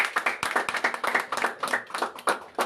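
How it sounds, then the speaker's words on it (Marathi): Students at a middle school clapping to welcome guests, a quick uneven patter of individual hand claps from a small group, fairly close and crisp, with scattered distinct claps rather than a dense roar. "टाळ्या वाजवून"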